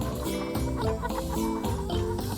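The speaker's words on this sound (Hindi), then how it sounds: "ये है मुर्गी। इसे इंग्लिश में हैन कहते हैं।" A hen clucking on a farm, a run of repeated close clucks with a rhythmic, busy texture, loud and clear over a musical bed for a couple of seconds.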